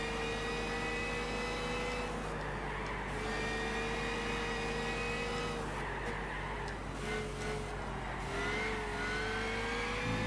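A racing car in Gran Turismo 6 drives in the rain with a continuous engine drone whose pitch rises and falls as it revs and shifts, steady and close throughout and without any talk.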